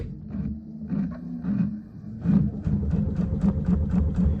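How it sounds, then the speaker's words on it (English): A Baby Lock Altair sewing machine stitches quilt binding with a rapid mechanical chatter and hum. It starts in short bursts, then settles into a steady run, close by. "Then I'm going to sew, and I'm going to line it up right down here"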